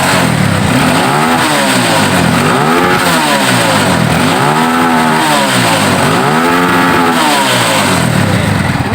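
A Yamaha Scorpio motorcycle with a sputtering, backfiring fault is revved repeatedly, its loud engine rising and falling in four or five close swells over a steady idle.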